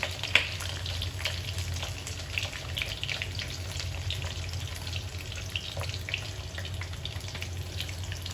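Onions softening in a frying pan for sweet and sour fish give a steady, moderate sizzle with faint watery crackle, continuous throughout with no talking.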